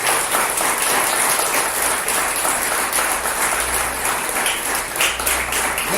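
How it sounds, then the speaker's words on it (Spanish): A church congregation gives a sustained round of applause in worship, a thick, even wash of many hands clapping with almost no talk over it. "Vamos a dar un aplauso a la gloria de Jehová en esta hora."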